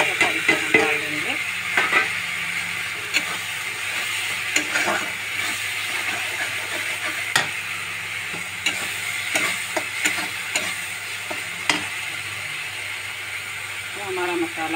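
Masala sizzles and fries in oil inside a pressure cooker for jackfruit curry, with steady crackling hiss and repeated scraping stirs. It sounds close and continuous, and a voice talks over it at times.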